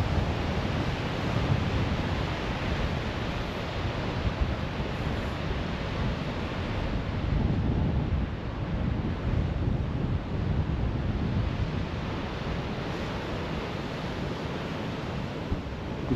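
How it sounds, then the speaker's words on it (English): Strong wind buffets the microphone on Good Harbor Beach on Lake Michigan, with waves surging and washing over the shore beneath a constant roaring rush and no voices. "Hopefully the wind isn't too terrible for you guys, but this is what we get up here in Northern Michigan."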